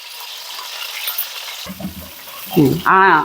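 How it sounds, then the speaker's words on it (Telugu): Green chilies fry in hot oil in a pan with a steady, moderately loud sizzle. Stirring clatters toward the end, and voices briefly break in. "ఫస్ట్ పచ్చిమిర్చి వేద్దాం కొంచెం ఆయిల్లో మగ్గింది అనుకోండి"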